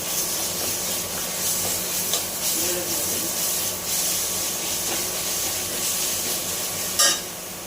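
Garlic hits a hot pan and sizzles steadily while a spoon stirs and scrapes, loud and close, ending with a sharp clink.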